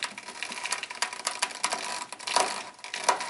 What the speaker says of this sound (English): you guys want to hear the click? There's a click.